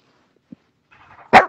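A dog gives a single sharp bark near the end, preceded by faint whimpery sounds and quiet rustling, close by in an indoor setting.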